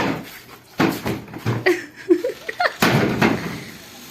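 Someone banging on a door in a home: a few heavy, irregular thuds and knocks, close and loud, with a brief voice sounding between the blows.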